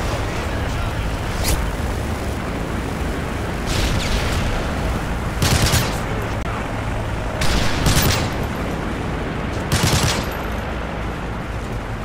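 Strafe-run gunfire and explosions in Modern Warfare 3 on the Outpost map during a team deathmatch: sustained loud rapid fire with heavy booming blasts bursting through repeatedly, dense and continuous, with occasional game voice callouts.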